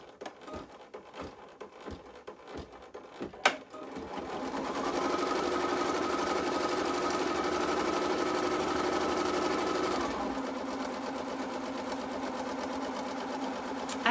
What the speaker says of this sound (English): I want to go ahead and stitch out that placement line right on my stabilizer